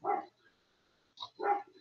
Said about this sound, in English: You can hear the dogs barking in the background.